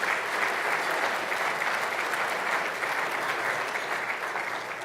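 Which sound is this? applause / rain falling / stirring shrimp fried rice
applause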